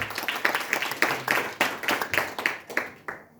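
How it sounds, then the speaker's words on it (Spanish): Scattered hand clapping from a church congregation, a fairly quick irregular run of claps lasting a few seconds at moderate loudness, with no one speaking over it. "¿Cuántos le dan un fuerte aplauso a nuestro Señor que hace milagros?"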